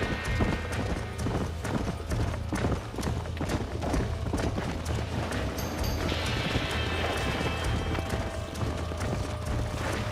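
A horse gallops in the Red Dead Redemption video game, its hooves clip-clopping in quick rhythm with a neigh partway through, set against busy game sound.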